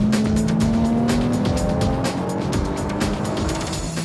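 A Lotus Evora S driven on the Lotus test track: a loud, steady engine note close by, with tire noise throughout and a rising pitch as it accelerates, and no talking.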